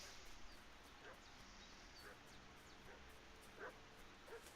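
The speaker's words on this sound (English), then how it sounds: "What's that dog making such a fuss about?" Dog in a video game, heard faintly in the distance as a series of short yelps and whimpers spaced about a second apart over a quiet hissing background.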